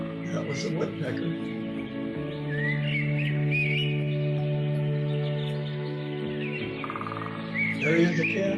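A woodpecker taps out a brief, rapid drumming roll late on, with scattered birdsong and chirps over a steady, gentle musical background.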